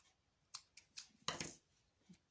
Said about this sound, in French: Hop, je vais découper.